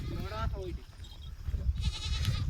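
A goat bleats in a quavering call near a village cricket game, followed by outdoor clatter and voices talking.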